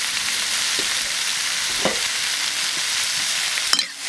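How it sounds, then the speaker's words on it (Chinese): Cured pork and hot chillies sizzle steadily in a wok, with a few scraping stirs of the spatula and a sharp clatter near the end, close and loud with no voices. "炒成这样我们就下了腊肉"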